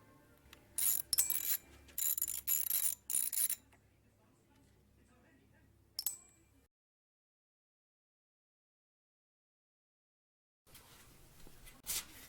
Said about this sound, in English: Simply remove the 4 screws around the headlight ring